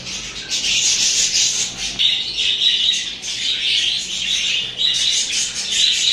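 Pet birds, including a cockatiel, pecking at fresh greens, with constant high rasping chirps and scratchy chatter from several birds close by, loud and continuous, with no talking.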